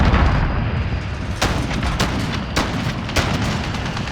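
A missile explosion in Modern Warfare ground-war play: a loud dense rumbling boom with a string of sharp cracks and blasts over about four seconds, close and heavy.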